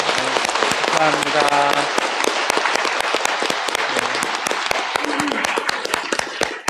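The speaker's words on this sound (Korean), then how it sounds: "다 함께 축하의 박수 한번 보내드릴까요?" Congregation at a Catholic confirmation ceremony in a church claps together, brisk sharp hand claps layered densely throughout, with a voice briefly speaking over the applause.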